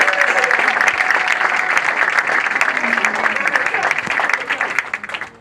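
An audience at a Congolese cultural event applauds with loud, sustained clapping that thins out and fades toward the end, with crowd voices mixed in.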